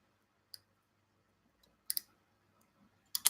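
Sprue cutters snipping parts off a plastic model kit's sprue, giving a few sharp, close, isolated clicks at irregular intervals against near silence.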